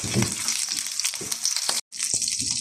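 Lamb shoulder sears loudly in a hot pan, a dense crackling sizzle with occasional pops and a brief break before the frying resumes.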